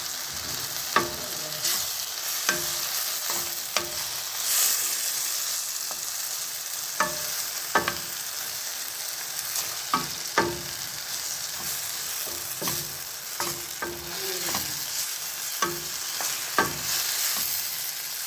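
Thyme is stirred into a pan where Toulouse sausage is sizzling for rougail saucisse, giving a continuous bright frying hiss broken by frequent sharp clicks and scrapes of stirring, close and fairly loud, with no voices.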